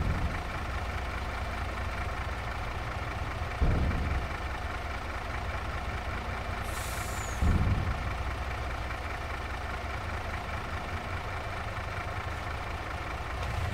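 MAN truck engine idling steadily in Farming Simulator 22, a constant low rumble with two brief dull thumps and a short faint high hiss partway through, no voices.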